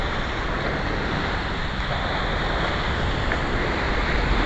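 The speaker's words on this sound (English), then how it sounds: "That's the ocean." Ocean surf rolls and crashes continuously on Fort Lauderdale Beach, a loud, steady wash of waves mixed with wind buffeting the microphone, with no voices.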